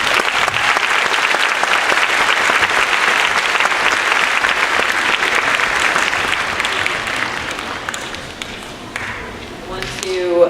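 A school spring-concert audience gives loud, sustained applause for a 4th grade chime choir, dense clapping that holds steady and then thins toward the end with a few closer claps.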